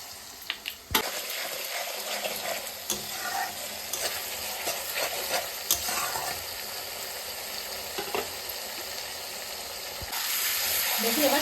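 A tomato, ginger and green chili paste fries in a pan with a steady broadband sizzle, broken by intermittent scrapes and clinks of a spoon stirring against the metal, close and moderately loud with no talking.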